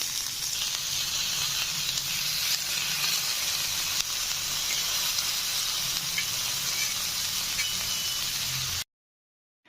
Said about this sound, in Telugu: బటర్ ఆర్ గీ తీసేసుకొని మనం దాని మీద ఫ్రై చేసేసుకోవటమే